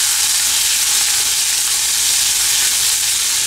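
Onions fry in a pan for Sri Lankan masi sambol, producing a dense, even, close sizzle that stays steady throughout with no talk.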